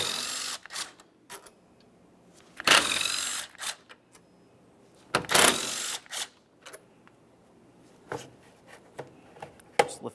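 10mm mounting bolts are loosened on the air inlet of a 2009–2014 Nissan Maxima, heard as bursts of ratchet clicking and a couple of loud whirring tool runs between quiet metallic handling noises, close up.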